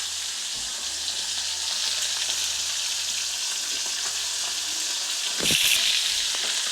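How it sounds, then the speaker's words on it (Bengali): Fish frying in hot oil, a steady bright sizzle throughout with a brief louder burst near the end as pieces are stirred. "মাছগুলো সব ভাজা হোক"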